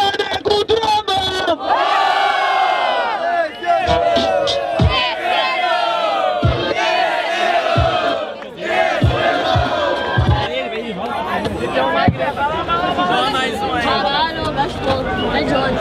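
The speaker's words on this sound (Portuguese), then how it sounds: "Barulho para Nego Drama." A dense crowd at a Brazilian street rap battle in São Gonçalo roars, shouts and whoops loudly for a competing MC, with sharp hand claps and babble continuing throughout.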